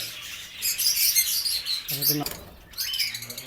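Caged pet birds in a breeding loft, among them lovebirds, cockatiels, parrots and English budgerigars, keep up a dense, shrill chirping and twittering, with a voice briefly heard over the chatter.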